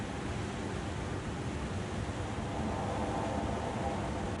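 Wind in the snowy Canadian wilderness of the video game The Long Dark, a steady broadband rushing that stays even and fairly loud throughout, with no voices.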